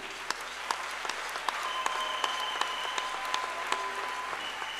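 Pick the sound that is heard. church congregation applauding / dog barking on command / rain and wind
church congregation applauding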